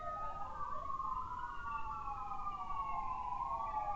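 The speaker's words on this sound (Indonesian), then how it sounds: "Kayaknya ambulan atau pemadam kebakaran, Bu?" A wailing emergency vehicle siren, ambulance or fire truck, rising and falling steadily at a distance over faint traffic rumble.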